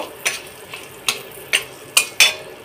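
Whole spices, including cinnamon, black pepper, cloves and two bay leaves, are stirred in hot oil for chicken soup, a series of sharp close scrapes and taps against the pot over a faint sizzle, with no talking.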